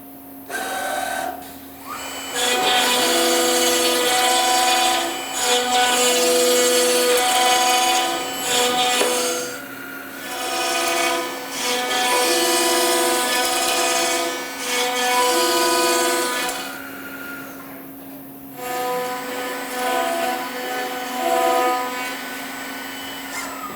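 A Commander 3 door machine runs its machining sequence on a clamped door, with loud sustained whining cutting and routing passes, brief pauses and changes in pitch as the tools move along the wood.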